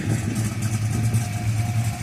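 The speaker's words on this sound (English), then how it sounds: "let's go back and listen to the cam" A Boss 302 stroker V8 with a solid lifter cam and four-bolt main, a Trans Am show car, idles steadily and close by, a deep continuous rumble with no voices.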